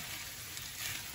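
Oil sizzles and crackles steadily as eggplant fries in a pan, a soft continuous hiss with no voices.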